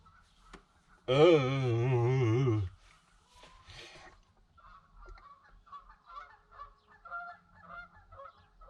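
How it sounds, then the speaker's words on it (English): A loud, drawn-out goose honk rises and falls for about a second and a half, then fainter honks and calls scatter in the background, heard at a windy campsite. "Can you hear those geese honking, y'all?"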